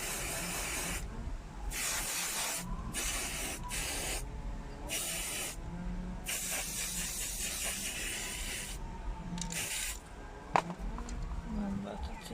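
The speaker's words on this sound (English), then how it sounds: "when you're spray painting, guys, use your gloves" Spray paint can hissing in repeated bursts of varying length, separated by brief pauses, close and steady, with a person talking over some of it while making a DIY centerpiece.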